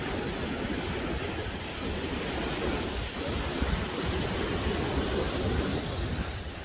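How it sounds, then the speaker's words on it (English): Ocean waves breaking on the Pacific coast between Acapulco and Puerto Escondido, a steady wash of surf with a continuous hissing roar and a slight swell midway, heard from a distance with no voices. "God, look at these waves."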